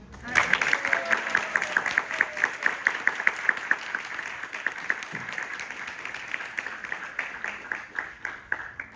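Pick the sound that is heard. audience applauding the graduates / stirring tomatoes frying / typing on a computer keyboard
audience applauding the graduates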